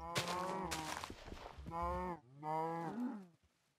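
Cow in a video game mooing, several long drawn-out low moos, close and fairly loud, separated by short pauses.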